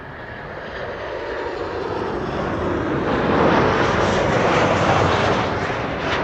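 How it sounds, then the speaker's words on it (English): A Boeing 737-800 airliner arriving from Madrid comes in to land at Amsterdam Schiphol on a sunny day, a loud, steady engine roar that swells toward the middle and holds, with no talk over it. "737-800, arriving from Madrid"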